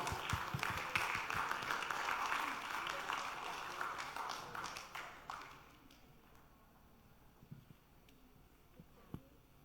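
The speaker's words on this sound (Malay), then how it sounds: "Tepukan untuk Puan Zubaidah Swal." An audience claps for the presenter at a cultural runway show of 1940s Malay aristocratic dress. The applause starts dense and fairly loud, thins out after about five seconds and ends in a few scattered, isolated claps.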